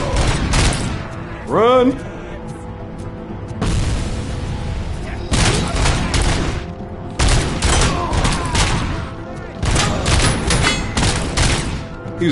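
Bursts of AK assault rifle fire ring out in the Robocop Rogue City video game, with loud repeated volleys and booms over music, and a voice shouts briefly.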